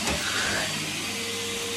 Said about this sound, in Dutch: Nee, dat is de stofzuiger.